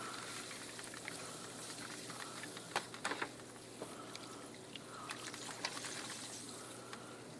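Liquid fizzing and bubbling steadily around a silver coin, a faint, close, continuous hiss with small scattered pops, no talking.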